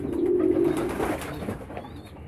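Pigeons cooing nearby, one long throaty coo followed by softer fading murmurs.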